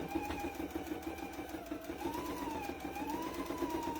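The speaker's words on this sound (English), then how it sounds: "I'm just going to sew all the way around" A sewing machine with a 90/14 needle and a 2.5 stitch length sews around the edge of an Easter egg silverware holder, giving a quiet, continuous motor hum with a gently wavering pitch.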